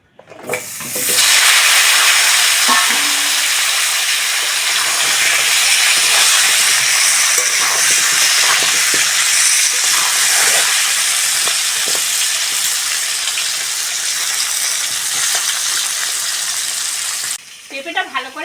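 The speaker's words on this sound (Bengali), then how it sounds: "ওই তেলের মধ্যে পেঁপেগুলো ভেজে নেব" Papaya pieces frying in hot oil left over from frying eggs for a Bengali egg curry, a loud, steady sizzle and hiss that swells quickly and holds continuously before cutting off near the end.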